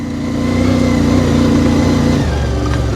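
A CFMOTO 450MT motorcycle engine pulls hard in second gear on a mountain climb, a loud close droning rev that holds steady, then drops sharply in pitch near the end as the throttle eases.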